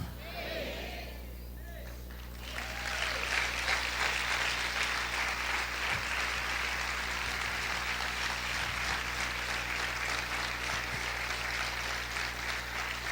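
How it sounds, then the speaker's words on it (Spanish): A church congregation applauds Jesus Christ during a Spanish-language sermon on freedom from the curse, starting with a brief spoken phrase before loud, sustained clapping swells in and continues steadily to the end, with some voices mixed in. "Dale ese fuerte aplauso al Señor Jesucristo"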